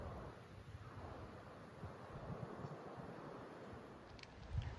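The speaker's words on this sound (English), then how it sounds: "It is really windy still, so bear with me on that." Wind buffets a microphone outdoors in a garden on a hot, blustery day, a steady roaring rumble with low thumps throughout and a stronger gust near the end.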